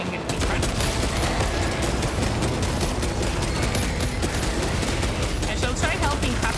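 Rapid gunfire in the video game Space Marine 2 rattles on without pause, loud and dense, with overlapping bursts and booms filling the whole stretch.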